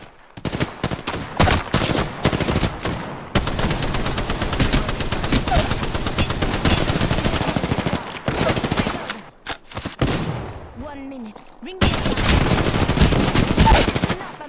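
Gunfire in the shooter game Apex Legends: loud, rapid automatic bursts in long rattling strings, broken by short pauses and a quieter stretch before another heavy volley.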